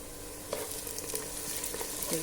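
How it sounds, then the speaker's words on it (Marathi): Chopped onions fry in a pan with a steady broadband sizzle, punctuated by occasional soft scraping stirs, continuous and fairly close with no talking. "कांदो फ्राय जाला"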